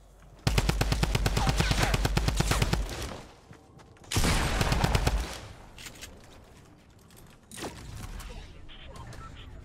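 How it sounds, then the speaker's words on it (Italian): Automatic gunfire in a Fortnite match, loud rapid bursts from about 0.5 to 3 seconds and again near 4 to 5 seconds, with a single sharper shot later, while Italian players talk over the action. "Ha sparato uno da dietro."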